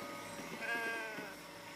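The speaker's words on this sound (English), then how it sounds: "Oh, there's a sheep." Sheep in the Baldur's Gate 3 video game giving one drawn-out wavering bleat, moderately close over a faint background hum, with no talk.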